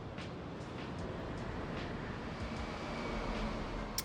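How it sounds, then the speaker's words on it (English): A train rolls along steadily in the heavily modded Factorio pYanodon's playthrough, a constant low rumbling ride with no voices over it. "we'll ride a train over there"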